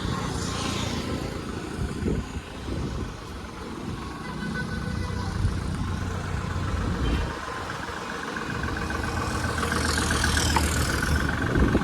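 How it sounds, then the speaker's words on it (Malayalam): An Ashok Leyland Bada Dost truck engine idles steadily for the whole stretch, a continuous low rumble with faint mechanical knocking, heard up close and fairly loud. "അത് അടിപൊളി വണ്ടിയാണ് കേട്ടോ അശോക് ലൈലൻഡിൻ്റെ ബഡാ ദോസ്"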